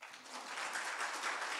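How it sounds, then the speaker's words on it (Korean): A church congregation applauds to welcome the pastor at a Sunday afternoon revival meeting, a brief, steady wash of many hands clapping at moderate distance with no talk over it. "우리 목사님 나오실 때 한 번 더 우리 박수로 환영하겠습니다."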